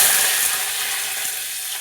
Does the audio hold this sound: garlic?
yes